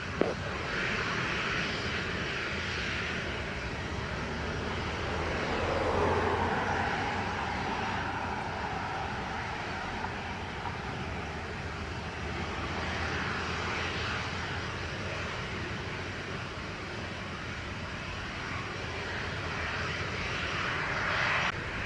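A JetBlue airliner on approach to land on runway 25 at Montego Bay airport in Jamaica gives a continuous broad engine roar that swells slightly midway and holds steady, with no talk.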